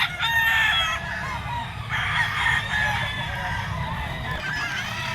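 Gamefowl stags crow loudly and up close at a pet market, with overlapping drawn-out calls and clucks over a dense crowd of other birds.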